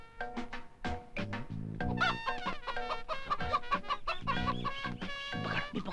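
Chickens cluck and squawk loudly and agitatedly in repeated bursts while being caught, close by, with a busy overlapping flurry of calls.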